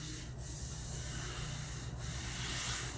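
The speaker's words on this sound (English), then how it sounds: "Gave it a little 30-second bop here with the orbital" An orbital sander with 80-grit paper works over a routed wooden boat keel, giving a steady, close, continuous rough whirring hiss with no pauses.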